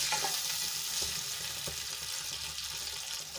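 Water bubbles and hisses steadily in a pan, heated before kadhi mixture is added, a continuous soft simmering roar with a few faint clicks.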